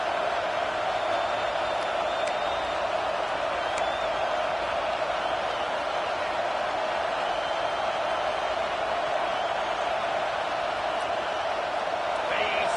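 A dense, loud roar from a stadium crowd at a Baylor at Auburn college football game on fourth down. The noise holds as a continuous wall of sound with no breaks.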